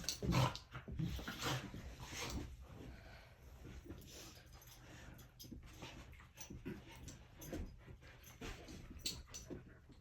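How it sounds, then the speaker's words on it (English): Dogs in a camper van on a Scottish island make agitated noise close by, with whimpers, growls and sharp barks over rustling, on and off throughout. "That barking just goes right through you."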